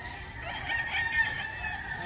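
At a gamefowl yard kept for cockfighting, a rooster's crow carries faintly from some distance, a drawn-out call over soft background noise.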